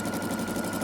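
A sewing machine runs a tight stitch along quilt strips, giving a steady, close mechanical whir with a fast, even rhythmic chatter throughout.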